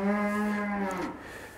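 Cattle crowded into a full barn, one cow giving a single long, loud moo close by, steady and drawn out before it drops and fades, with no talking.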